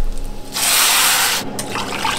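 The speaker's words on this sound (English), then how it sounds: "add twice the amount of cold water" Cold water pours into a saucepan of rice with butter and garlic, a steady rushing splash that starts after a quiet moment, breaks briefly, then carries on into a softer trickle.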